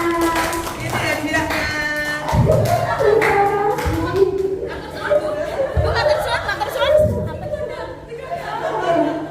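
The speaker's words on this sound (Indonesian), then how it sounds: "Tepuk tangan untuk Bu Luki semuanya." An audience in a school training session claps for a teacher presenter, bursts of applause mixed with chatter and laughter, with people talking throughout.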